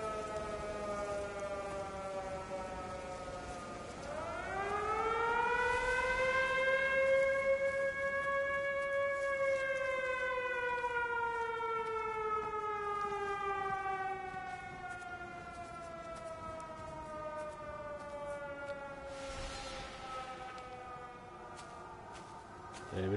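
A tornado siren in the game Everybody's Gone to the Rapture winds up into a long rising-and-falling harmonic wail, slowly fading and then swelling again, carrying faint and distant over soft wind.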